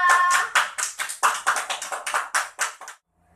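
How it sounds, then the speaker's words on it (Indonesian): A classroom of children claps in a rhythmic burst of about a dozen quick, close hand claps that stop abruptly. "Tepuk tangan untuk kita semua"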